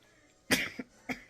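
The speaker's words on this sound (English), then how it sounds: "like going into a coughing fit" A short burst of coughing up close, three or four rough hacks in quick succession after a brief quiet moment.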